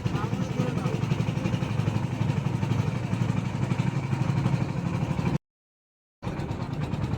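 A river trawler's engine on the Kirtankhola River near Barisal, Bangladesh, drones loudly and steadily with a regular throb, dropping out briefly near the end before resuming.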